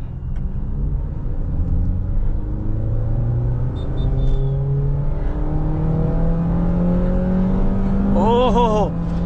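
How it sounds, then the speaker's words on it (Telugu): Honda Amaze sedan in sport manual mode, its engine revving up steadily through the gears with a rising, continuous drone, heard close from inside the car, with a brief voice near the end. "ఇప్పుడు మనం కార్ ఆన్ చేసుకొని ఒకసారి బండి ఎలా ఉందో చూద్దాము"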